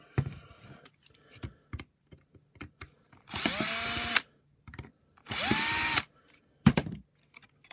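Two whirring bursts of a power screwdriver, each about a second long, undo screws on a Shark Stratos IZ400UK vacuum floor head, between light clicks and handling taps of plastic parts, up close in a quiet room.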